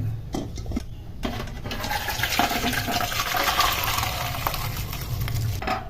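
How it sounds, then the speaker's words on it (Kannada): Boiled beans and carrots being drained through a colander, with a steady rush of pouring water and some clatter of metal pots running throughout at close range, no talking. "ಇವಾಗ ಅದನ್ನ ಬಸ್ಕೋಬೇಕು ತೂತ್ ಪಾತ್ರೆಯಲ್ಲಿ"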